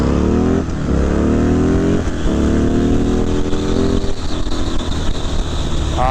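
A motorcycle fitted with D&D racing exhaust pipes revs loudly close by, its engine note climbing in several rising sweeps with short dips between throttle blips, gruff and throaty.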